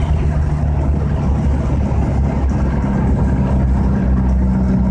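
1984 Ford Bronco II with a swapped 2.3-liter turbo engine driving in fourth gear, a loud steady engine drone with road and wind noise filling the cabin.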